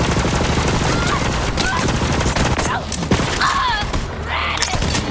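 Rapid gunfire from a favorite weapon in the shooter game Borderlands 3, dense bursts running nearly the whole time with mechanical clatter and scattered voices of game characters in the mix.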